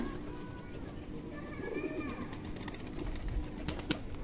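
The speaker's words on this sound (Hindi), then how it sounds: "आप देखिए कितना साउंड कर रहा कबूतर आकर के" Low pigeon cooing in the background, mixed with ambient chatter and bird noise outdoors; steady, moderately loud.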